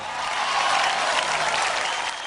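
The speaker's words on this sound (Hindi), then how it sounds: "एक बार इन दोनों के लिए, इन चारों के लिए जोरदार तालियां।" An audience applauds contestants on a dance competition show with a dense, even roar of clapping that stays loud and steady throughout, with no voices on top.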